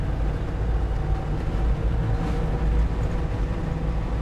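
A 1988 Land Rover 110 V8 drives along a bumpy road, its engine a loud, steady low rumble with rattling and road noise from inside the cabin, continuous throughout.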